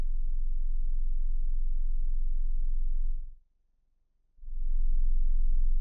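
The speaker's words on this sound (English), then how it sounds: "I connect a sine wave signal to the input of the module. When you turn the potentiometer, the amplifier will open first." A pure sine tone runs through a kNoB AGNI Eurorack VCA and wavefolder module as a low, steady hum with faint added harmonics. It fades out to silence for about a second, then returns at the same level.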